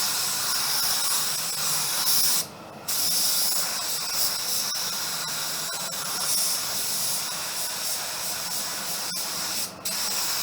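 A Walcom spray gun sprays Glasurit 90 line paint in a steady loud hiss that runs almost unbroken, with two brief pauses between passes, close up.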